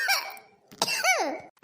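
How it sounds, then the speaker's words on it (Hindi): A child coughs in a few harsh, voiced bursts separated by short pauses, close and fairly loud, at night indoors. "तुझे तो बहुत खांसी हो रही है बेटा"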